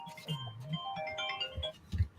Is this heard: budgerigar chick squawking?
no